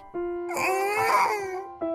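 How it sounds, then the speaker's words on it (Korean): A newborn baby cries thinly, opening with a short wail, then swelling into a longer strained cry before falling back to a thin tone. "당장이라도 꺼질 듯한 가냘픈 울음소리"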